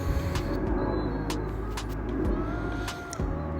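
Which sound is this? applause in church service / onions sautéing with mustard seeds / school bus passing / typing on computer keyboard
school bus passing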